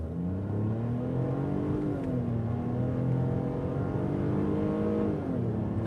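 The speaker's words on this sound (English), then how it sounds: "You can really hear the air being sucked in." A 2021 Ford Bronco Sport Outer Banks 4x4 accelerates hard in sport mode, a steady rising engine drone with intake whoosh heard from inside the cabin and a couple of shifts in pitch.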